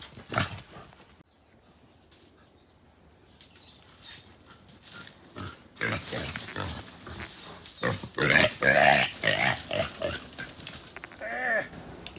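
Pigs from a trapped family grunt and snort repeatedly up close, the sounds growing busier and louder in irregular bursts over quiet outdoor background.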